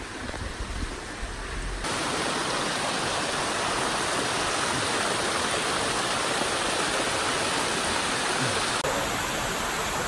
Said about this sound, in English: These waterfalls.